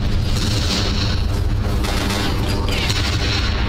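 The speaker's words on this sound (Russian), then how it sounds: "шахты это опасно, особенно когда взрывы тут." Explosions rumble through a mine in the video game BloodRayne, a dense, loud, continuous barrage of deep booms and crackling blasts running the whole length without a break.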